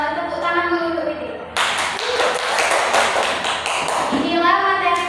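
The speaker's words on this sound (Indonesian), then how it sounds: "Tepuk tangan dulu untuk Widi." Classroom applause for a student, a burst of children's clapping that starts abruptly partway in and runs for several seconds between stretches of a tonal voice-like sound.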